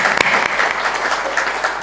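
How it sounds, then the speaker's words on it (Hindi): An audience at a devotional satsang gathering claps loudly and steadily, a dense close wash of applause with no talk over it. "जोर से ताली बजाओ।"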